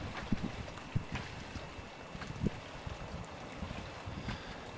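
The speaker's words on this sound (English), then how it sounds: "So that's an 8 mile per hour wind." Steady wind at about 8 miles per hour blows around a small wind turbine turning right at cut-in speed, a continuous broadband rush with occasional soft gusty thumps and buffets against the microphone.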